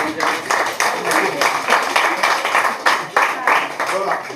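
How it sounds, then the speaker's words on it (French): Lecture audience claps for the speaker, a run of uneven rhythmic clapping in a room with voices mixed in over it. "Vous allez applaudir parce que je vous ai poussé à le faire."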